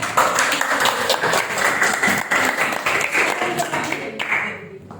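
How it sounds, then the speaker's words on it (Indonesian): Students in a classroom guidance session applaud their classmates with lively, dense clapping mixed with voices and cheering, fading out at the end. "silakan berikan tepuk tangan untuk teman-teman."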